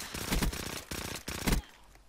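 Automatic machine gun fire in the video game Black Ops 3, rapid rattling bursts with brief gaps between them, fairly quiet and continuous across the stretch.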